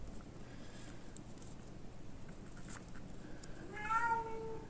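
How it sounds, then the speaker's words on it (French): A house cat lets out a single drawn-out meow near the end, rising and falling in pitch, heard fairly close over a quiet indoor room hum. "un chat qui veut participer à la vidéo."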